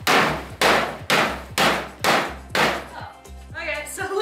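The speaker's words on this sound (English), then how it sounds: "Just whack it with the hammer a bit." A hammer strikes metal repeatedly, six or seven sharp, loud clanging blows in a steady rhythm, each ringing briefly before the next, in a workshop.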